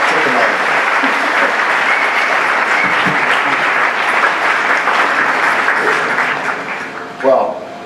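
An audience at a talk breaks into sustained applause, many hands clapping in a dense, even roar with murmuring voices mixed in, tapering near the end before a brief louder sound.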